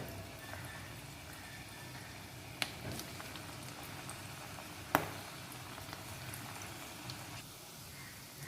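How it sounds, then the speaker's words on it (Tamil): Spinach pakoda fry in hot oil with a constant soft sizzling crackle, broken by a couple of sharp clicks. "நம்ம இப்போ ஒரு பக்கோடாவை போட்டுக்கலாம்."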